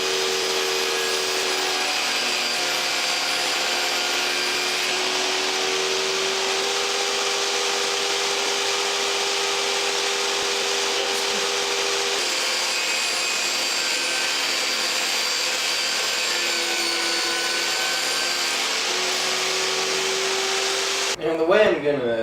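Power saw ripping boards to width for a silverware drawer organizer, a continuous loud whine with pitch shifts as cuts progress, ending in a short thump.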